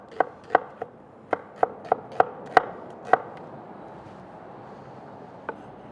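Knife chopping vegetables on a cutting board for a brisket burger jam: about eight crisp, irregular chops close up over three seconds, then a pause and one last chop, with no talking.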